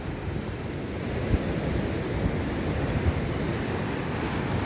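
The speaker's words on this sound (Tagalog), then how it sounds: "Ang uh, dagat sa ngayon, ano, maalon, no? maalon." Rough sea surf crashes and churns continuously at a beach in Tigbauan, Iloilo, a dense roaring wash of waves with wind buffeting the microphone.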